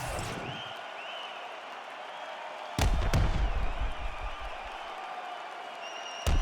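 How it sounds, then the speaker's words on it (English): A mixed martial arts fight crowd cheers and applauds between rounds, a broad sustained roar that swells louder partway through, with a couple of sharp thumps. "the crowd voicing its appreciation after that crazy sequence in the previous round."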